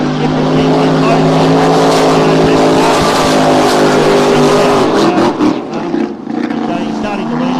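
A race car engine is pushed hard during practice at Adelaide, giving a loud, sustained high-revving howl that wavers briefly near the end, with commentary likely underneath.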